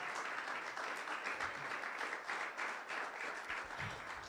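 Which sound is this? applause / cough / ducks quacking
applause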